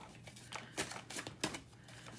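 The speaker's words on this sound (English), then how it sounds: "As I'm shuffling the cards" Tarot cards being shuffled by hand, a soft papery riffling with a few sharper snaps and bursts in an uneven rhythm, quiet and close, with no talking over it.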